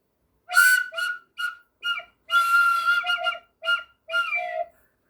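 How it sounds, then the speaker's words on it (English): An old carved flute or whistle is blown in several short, breathy tooting bursts with slightly squawky tone, stopping and starting irregularly, fairly close and heard alone. "this is like I don't know if it's a flute or a whistle. Let's see if I can blow it for you."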